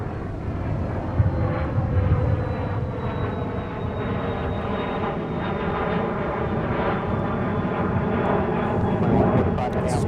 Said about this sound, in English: We got a departure on the north side.